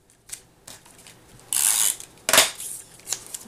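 Scissors snipping paper pennants at a diagonal for a handmade seasonal card, giving a few short close crisp cuts, with two louder snips near the middle, and no talking.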